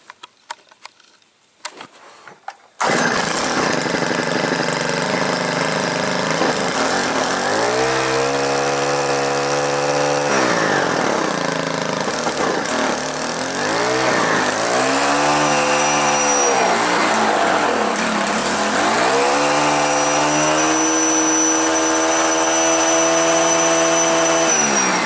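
A Stihl saw's small two-stroke engine starts abruptly after a few seconds of quiet handling noise, then runs loud and steady close by, its pitch rising and falling with repeated throttle revs.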